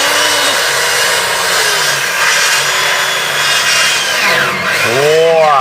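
Power tool cutting wood on a construction job, a loud steady motor whine that holds continuously and rises into sweeping pitch changes near the end, close to the listener with no talk over it.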